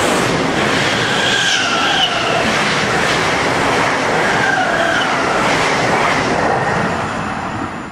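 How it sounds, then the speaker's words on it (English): A Class 442 electric train in a train simulator video game, with the Armstrong Powerhouse sound pack, runs steadily with a continuous rumble and rising, whining motor tones, close and loud, no voices. "the Class 442 sounds much closer to the real thing once you have the Armstrong Powerhouse sound pack installed"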